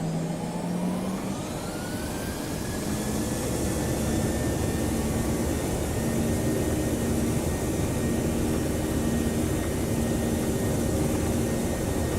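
Airliner jet engines spool up to takeoff thrust in the Prepar3D flight simulator, a loud, steady roar with a rising whine that holds throughout the Delta flight from Jacksonville.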